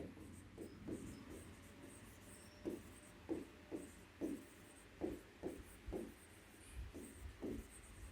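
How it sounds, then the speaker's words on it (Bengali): Handwriting the definition of divergence for a vector lesson: soft, quiet scratching strokes in an irregular rhythm, a dozen or so short bursts with brief pauses between, close and alone. "আমরা এবার এটা সংজ্ঞায় লিখব"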